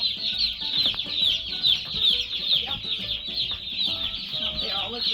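Day-old turkey poults peep constantly in a brooder, a dense chorus of high chirps close by, steady throughout with low rustling underneath.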